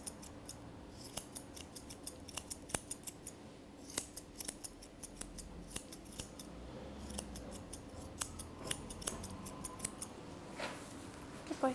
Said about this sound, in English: I'm using curved scissors just to make it a little bit easier.